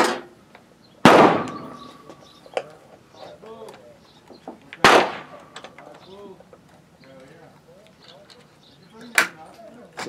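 Three loud, widely spaced shots from a Century Arms AK pistol in 7.62x39 clamped in a Ransom Rest machine rest, with people talking between the shots.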